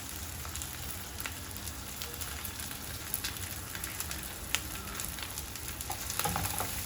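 Garlic, green chili and curry leaves sizzle steadily in hot oil for a prawn pickle, a continuous close crackle with a few sharper pops and no talking.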